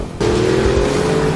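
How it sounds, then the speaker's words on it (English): A first-generation Audi R8 V10 engine starts up loud and close after a brief quiet moment, holding a steady, throaty idle drone with no talking. "the Audi R8"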